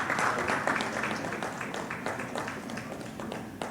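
Audience at an annual wellness foundation summit keeps up steady applause as an honouree steps forward, a dense, moderately loud patter of many hands with a few sharper claps.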